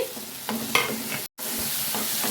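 Green chillies go into a pan of frying onion and tomato, a steady sizzle with spatula stirring scrapes and a brief dropout partway through.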